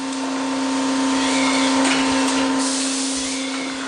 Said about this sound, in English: through the screen a hole is collared and drilled to the required depth